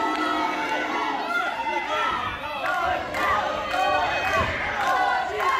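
Wrestling arena crowd at a match between Johnny the Star and Paul Goliath, loud sustained cheering and shouting that fills the hall, with a commentator's voice running over it.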